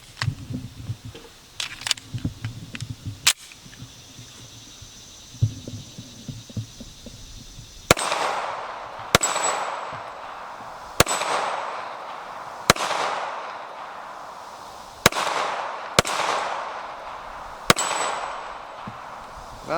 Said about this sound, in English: I'm going to try to shoot a couple rounds